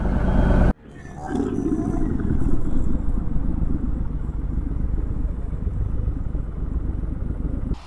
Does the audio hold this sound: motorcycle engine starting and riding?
yes